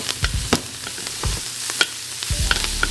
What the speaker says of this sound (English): We're going to deglaze the pan and that's going to come right off.